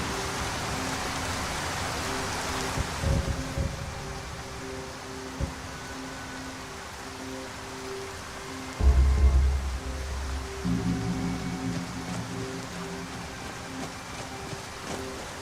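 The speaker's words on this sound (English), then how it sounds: "Let me turn down the rain, it's quite loud." Rain falling in the Nolvus V6 game: a steady, fairly loud broadband hiss runs the whole time, with soft low hums, a few dull knocks and a heavier low rumble joining in partway through.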